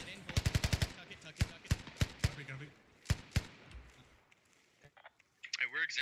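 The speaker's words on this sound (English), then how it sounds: "he's making a mag dump" Rapid automatic gunfire in a video-game firefight: a fast burst of close shots followed by a string of spaced single cracks, with a voice talking over the end.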